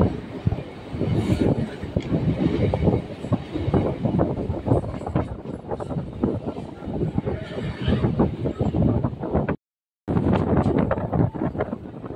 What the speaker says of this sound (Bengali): আমাদের ট্রেন এখন মৌরিগ্রাম স্টেশন ছেড়ে বেরিয়ে যাচ্ছে।